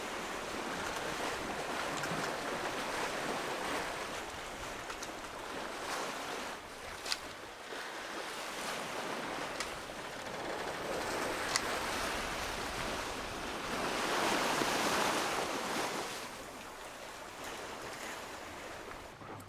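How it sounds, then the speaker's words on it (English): Open-ocean waves wash and slosh around a sailboat at sea on a passage to Hawaii, a continuous rushing swell with wind noise on the microphone, swelling louder for a few seconds midway, with no voices. "The wind came back and the waves came finally down."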